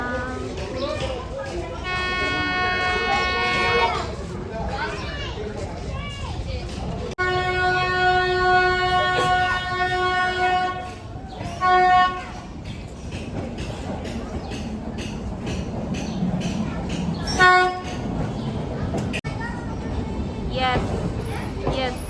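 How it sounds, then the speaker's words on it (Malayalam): Ooty toy train pulling into a station, its horn sounding in several loud, sustained blasts over steady rumbling, with people talking nearby throughout. "ഞങ്ങൾ ട്രെയിനിന് വേണ്ടി വെയിറ്റ് ചെയ്ത് നിൽക്കുന്നതിനിടയിൽ ട്രെയിൻ വരുന്നുണ്ട് കേട്ടോ"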